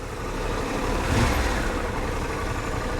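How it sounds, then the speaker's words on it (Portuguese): A Harley-Davidson Pan America motorcycle engine runs with a steady, smooth rumble, close and fairly loud, swelling slightly near the middle before settling back to an even drone. "Se acostuma rápido com o ronco mais suave do motor."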